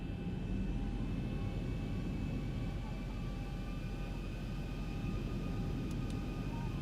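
Twin engines of a Boeing 737-800 in a flight simulator spool up to about half throttle, a steady, loud broadband roar with faint high whine tones that holds continuously throughout.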